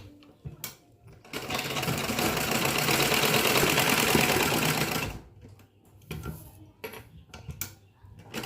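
Sewing machine stitching an embroidered blouse runs in a steady, close mechanical whir for about four seconds, then gives way to quieter handling clicks and shuffling.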